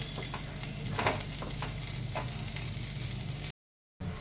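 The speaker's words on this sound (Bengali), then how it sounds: "কড়াইয়ে একটু তেল দিয়েছি, গরম হয়ে গেছে। এবারে এই টক ঢেঁড়স এটা দিয়ে দিলাম।" Sour okra sizzling in hot oil in a wok, a steady, close frying hiss with a few brief stirring scrapes, broken by a short silent gap near the end.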